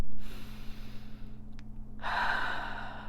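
A person drawing a slow, audible breath in a quiet room after a short pause, with a low steady hum underneath.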